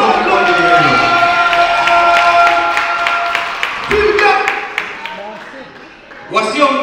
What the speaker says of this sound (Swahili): Pigia Yesu makofi kwa ajili yake.